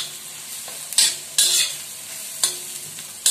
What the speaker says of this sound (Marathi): तेल छान तापलेलं आहे, त्याच्यात मी आता आपण बारीक केलेला मिरचीचा ठेचा टाकू